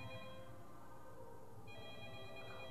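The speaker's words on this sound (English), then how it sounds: "is someone gonna answer that dang phone?" In a Backrooms game, a telephone rings with a faint electronic tone that pauses and resumes, sitting over a low droning background, with no voices.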